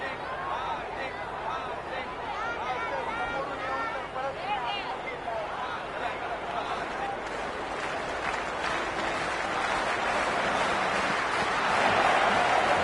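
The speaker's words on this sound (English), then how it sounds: "It's evident and ever so audible that the crowd is at near bursting point at today's play." Simulated cricket stadium crowd noise from the video game Cricket 26 forms a dense murmur that builds steadily louder toward the end, with voices talking over it.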